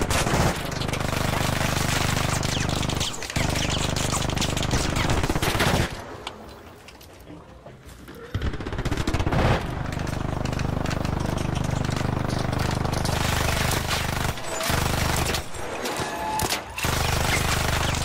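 Video game gunfire rattles in dense automatic bursts over a constant engine-like drone, loud and close, easing into a brief lull midway before the shooting resumes, with faint voices in the mix.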